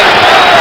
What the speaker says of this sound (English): The crowd yelling for Free to shoot.